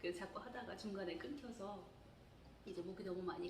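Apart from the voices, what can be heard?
No distinct noise like a dog, phone or traffic.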